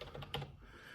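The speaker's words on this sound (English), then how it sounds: "So the keys are not clackety." Typing on the soft-touch keys of a Perixx Periboard keyboard gives a few quick, muted taps close by, one slightly firmer press in the middle, and no voices.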